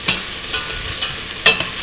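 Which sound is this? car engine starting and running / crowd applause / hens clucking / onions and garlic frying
onions and garlic frying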